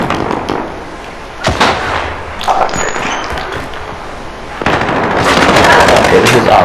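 Gunfire in Call of Duty: Modern Warfare, a mix of sharp single shots and metallic clanks followed by a loud sustained burst of rapid automatic fire, with scattered impacts throughout.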